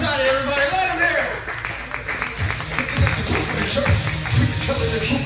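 Audience clapping for a comedian at a stand-up show in Lombard, Illinois, a steady mid-sized round of applause with scattered sharp claps, running under the comic's voice through most of its length.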